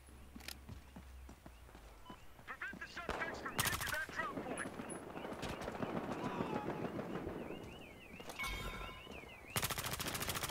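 Gunfire rings out in the video game Battlefield Hardline, with scattered shots and a few sharp bursts among clattering game sounds while a voice talks.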